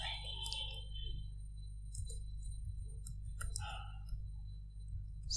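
Mouse clicks sound while designing a Nike app interface in Figma, a few sharp, quiet clicks spaced across a few seconds over a steady low hum.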